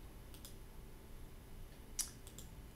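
A computer mouse double click while working in Cinema 4D, a pair of faint, quick clicks over quiet room tone with a few soft ticks nearby.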